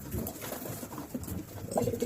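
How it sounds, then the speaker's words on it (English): Racing pigeons in a loft coo softly and repeatedly amid rustling and low background noise, the calls blending into a continuous murmur close by. "I just chuck the birds in the loft here for them to do free mating."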